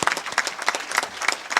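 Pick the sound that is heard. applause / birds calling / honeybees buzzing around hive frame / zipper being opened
applause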